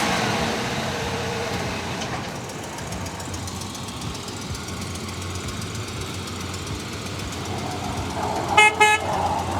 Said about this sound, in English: nice horn